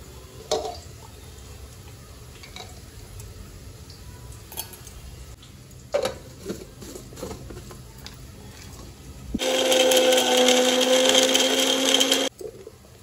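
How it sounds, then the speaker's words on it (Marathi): Spice masala for a Maharashtrian masale bhat ground in a kitchen mixer: quiet clinks and handling, then a loud whirring motor burst of about three seconds that cuts off sharply. "मसाला घ्यायचा आहे वाटून"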